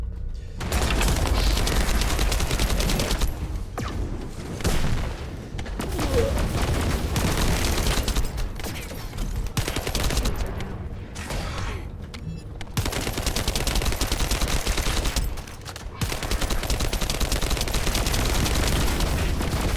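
Rapid, sustained gunfire in the sci-fi shooter game The First Descendant during a boss fight, dense bursts of automatic fire and booms with brief pauses, loud and constant throughout.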